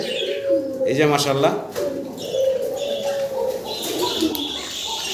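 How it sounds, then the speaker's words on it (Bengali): Pigeons coo in low, throaty, repeating calls close by, with someone speaking over them at a pigeon sale. "ওই জোড়াটা দেখেন কেমন ডাকাডাকি করতেছে"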